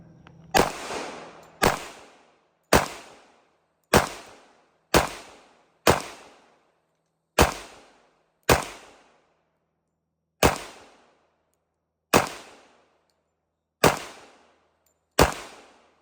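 Eleven sharp, loud pistol shots from an HK Mark 23 ring out one at a time at an outdoor range, spaced roughly one to two seconds apart, each with a short decaying echo.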